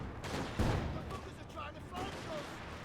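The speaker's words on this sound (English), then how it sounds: "Mortar fire around here" Mortar fire in the World War II strategy game Company of Heroes 2: a heavy, muffled explosive thump stands out from a steady rumble of battlefield noise, with smaller distant bursts afterward.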